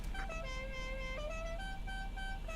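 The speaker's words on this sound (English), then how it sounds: "Check our horn." Horn check on a Concorde in the X-Plane 11 flight simulator: steady, multi-toned horn blasts hold for nearly the whole span, shifting pitch a couple of times over a low background rumble, with no talking.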